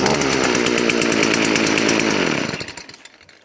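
A Stihl FS 45 string trimmer engine runs loud and close, a buzzing two-stroke roar that holds steady and then winds down and cuts out near the end.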